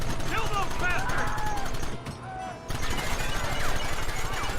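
Rapid bursts of gunfire crackle in the video game Red Dead Redemption, dense and repeated, broken by a short lull before resuming, with voices shouting over them.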